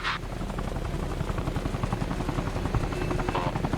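A Cobra attack helicopter in Arma Reforger thunders past with a steady, loud rotor chop that fills the whole stretch.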